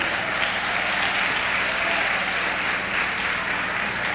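A church or lecture audience claps for a speaker, giving a loud, dense and steady round of applause that fills the whole moment without a pause.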